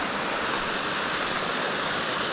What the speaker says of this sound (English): Check out Jim Bob Hubbard Falls right there.